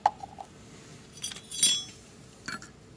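A buttermilk and leftover cooked rice mixture is stirred in a container. It gives a few light clinks and soft scrapes at irregular moments, quiet and close, with no voices.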